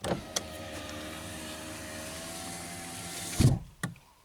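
A Honda's electric power window motor hums steadily upward on auto-up, then ends with a firm thud and a short click as it seals shut.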